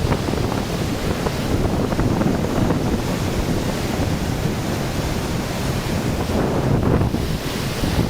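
Floodwater surging at the Prakasam Barrage in Vijayawada produces a loud, constant roar of rushing water, with wind buffeting the microphone throughout.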